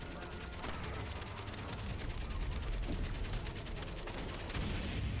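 Artillery and gunfire from the World War I video game Valiant Hearts: The Great War come as a rapid, faint series of sharp bursts and booms over a continuous battlefield din.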